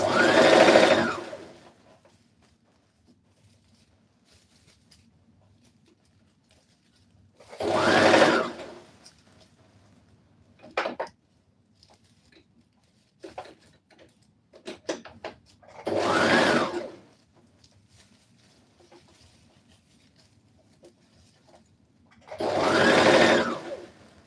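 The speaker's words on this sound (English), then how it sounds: "So when you're sewing this curve," A sewing machine stitches a curve on a red carpet dress in four separate bursts, each a couple of seconds long, with quiet handling and fabric rustles in the pauses between them.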